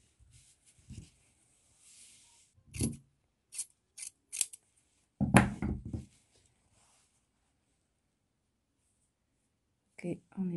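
Scissors snip fabric while a seam slit is being sewn, with several short bursts of cutting amid quiet rustling and handling noise, close and fairly soft, with no voice over the cuts.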